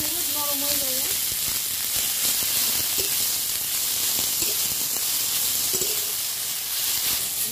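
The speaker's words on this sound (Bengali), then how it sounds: "শাকটাকে একটু তেলের উপর দিয়ে ভেজে তেলে ভেজে নেবো" Fresh fenugreek greens frying in hot oil with cumin, giving a steady, loud sizzle and hiss that runs through the whole clip with a few faint clinks.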